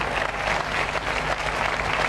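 Studio audience at a 1988 French television variety show bursts into continuous, loud applause, a thick crackle of many hands clapping close and evenly throughout.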